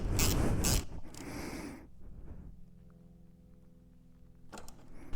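Short ratcheting clicks from a hand ratchet tightening a 5mm bolt on a Suzuki GSXR 1000 during an oil change, close and fairly loud at the start, then a quiet hum before another brief burst of clicks.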